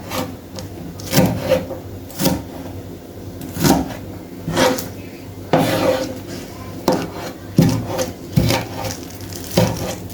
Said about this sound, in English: Cutting my green onion, my scallion, some of us will call it scallion.